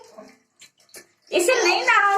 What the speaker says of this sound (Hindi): देखो फिर भी उसको वो नल के पानी से नहाना।